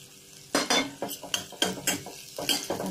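Onion being stirred and fried with other ingredients in a pan for an egg devil: a run of distinct scraping, clinking strokes of a utensil against the pan over a soft sizzle, close and fairly loud, about eight strokes in under three seconds.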